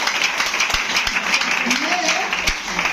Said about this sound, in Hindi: जोरदार ताली हमारे पायलट साहब के लिए